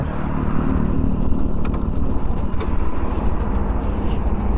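A 2020 Honda Dio 110cc BS6 scooter engine running steadily up close, a loud continuous low drone with a few faint clicks over it and no speech.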